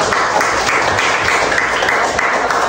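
Applause from a class of students in an Indonesian school lesson on Pancasila, a brief, steady burst of many hands clapping together at close range.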